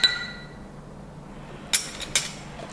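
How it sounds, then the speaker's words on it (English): A spoon clinks against a glass while stirring a passion fruit and peach juice drink, giving a few sharp, bright taps after a faint opening chime, close and clear over quiet room tone. "Give it a stir."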